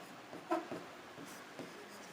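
Chalk or marker taps and scratches on a board during a physics lesson, a few faint, sparse strokes with short gaps between them in a quiet room.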